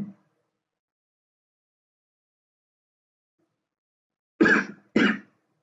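After a long silence, two quick coughs come close together near the end, sharp and close-up.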